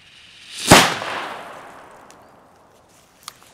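A Komet cannon-crack firecracker goes off outdoors on New Year's Eve afternoon with a single loud, sharp bang. The blast trails into a fading rumble, followed by a couple of faint distant pops.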